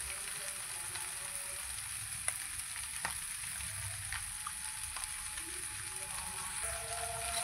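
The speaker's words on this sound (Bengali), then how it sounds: "এবার এটাকে ভালো করে এর সাথে মিশিয়ে প্রায় 5 থেকে 6 মিনিট ভেজে নেবো।" Pasta in tomato sauce frying in a pan, a steady close sizzle running throughout with a few light clinks of stirring and no talking.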